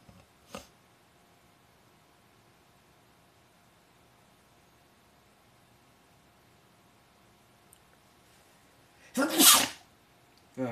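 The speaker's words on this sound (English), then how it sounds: "Had a little sneeze." A single sharp sneeze bursts out near the end of a long, quiet stretch of faint room hiss, close and loud, preceded much earlier by a brief soft knock.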